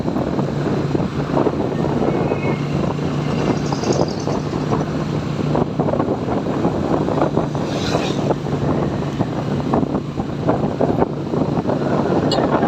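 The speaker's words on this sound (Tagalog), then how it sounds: "Sobrang hangin." Strong wind roars and buffets the microphone continuously beside a by-pass road in Pangasinan, a loud rushing noise with gusty swells and no voices.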